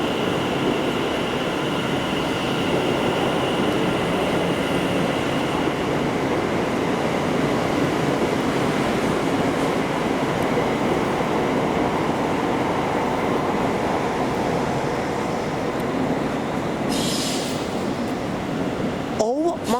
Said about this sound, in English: There's a Class 390 arriving